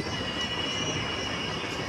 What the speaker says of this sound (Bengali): পাশে বড় ট্রেন আছে, এখানে বাচ্চাদের ট্রেন